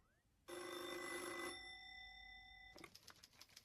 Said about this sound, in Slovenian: kako bi se dan končal, če ne bi izumili telefona, ki je jezno zabrnel pri Tinkovi mami v službi.